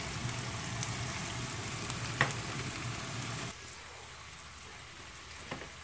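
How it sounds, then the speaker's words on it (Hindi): Chicken fries with potatoes and peas in a hot pan, a steady close sizzle with occasional stirring clinks, dropping noticeably quieter partway through as the crackling settles. "चिकन को भी हल्का सा फ्राई करने के बाद इसमें नमक डालेंगे"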